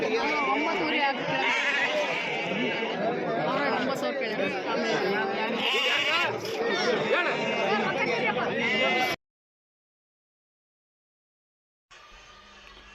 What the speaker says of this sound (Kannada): ನಾವು ಕುರಿ ಸಂತೆಯಿಂದ ಹೊರಗಡೆ ಬಂದಿದ್ದೀವಿ